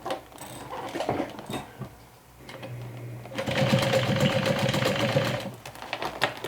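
A sewing machine stitches around a fabric sling, starting with short bursts and then running in a louder steady whirring stretch with rapid needle ticking.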